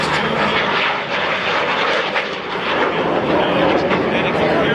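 Cessna A-37 Dragonfly attack aircraft at the McMinnville, Oregon airshow, its jet engine roaring loud and close in a broad continuous blast that swells slightly as it passes, with a voice talking underneath.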